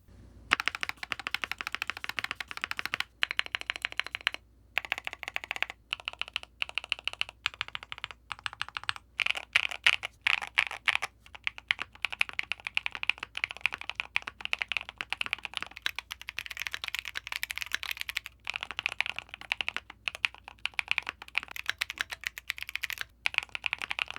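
Steady, rapid typing on a Keychron Q1 Pro mechanical keyboard fitted with Gateron CM linear switches, close and clear, with dense clacking keystrokes and brief pauses between bursts.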